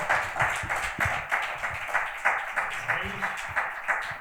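Audience applause at a book presentation, fairly soft and moderately paced clapping with audible individual claps, voices sounding faintly underneath.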